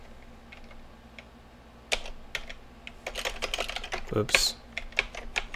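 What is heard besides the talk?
typing code on a computer keyboard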